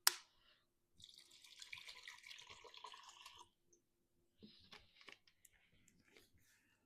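500 grams of water pours steadily into a container for sourdough for a couple of seconds, then a shorter splash and a few faint drips follow, with no talking.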